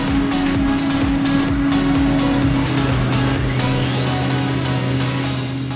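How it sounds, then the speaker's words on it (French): Forage harvester powered by a 16-litre, 775 hp MAN V8 engine running during grass silage work, a loud continuous drone with a steady low hum and a rising whine, no speech. "L'ensileuse est propulsée par un moteur V8 MAN d'une capacité de 16 litres"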